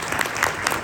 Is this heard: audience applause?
yes